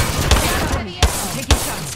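Gunfire in the Apex Legends video game: a few sharp shots spaced about half a second apart, loud and close, over a steady bed of game noise.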